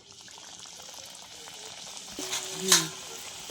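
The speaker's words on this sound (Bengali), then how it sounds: "কড়াতে তেল দিয়ে দিলাম, তো আমরা ভেজে নেব।" Litti frying in hot oil in a wok, giving a faint, steady sizzle that swells briefly near the end, with no voices.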